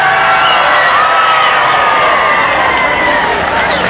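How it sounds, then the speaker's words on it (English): A large outdoor crowd cheers and applauds as President Kennedy arrives in 1963, a dense, loud, continuous roar of voices and clapping with occasional shouts, heard as an old radio broadcast recording. "You hear the crowd applauding."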